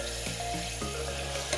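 Mutton pieces frying in hot oil for a curry, giving a steady close sizzle with a few faint clinks of stirring.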